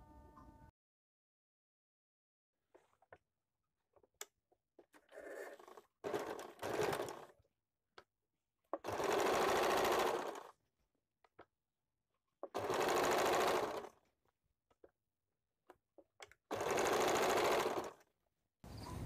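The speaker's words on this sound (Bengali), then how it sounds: "ভেতরের দিক থেকে আমি মেশিনে সেলাই করে নেব" Sewing machine stitching fabric for a girls' top, running in several loud, steady whirring bursts of a few seconds each, with shorter stops and handling clicks between them, close and without talk.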